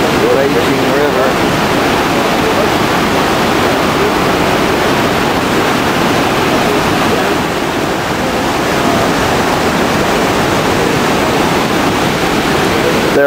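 Below the first cataract of Victoria Falls in Zimbabwe, the raging river and plunging water make a loud, steady wall of rushing roar with no pauses.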